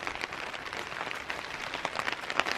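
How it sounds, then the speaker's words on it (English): Steady rain patters at a lake campsite on the Reindeer Lake canoe route, a dense continuous hiss of drops hitting surfaces close by, with no voices. "I'm just gonna step out of the rain."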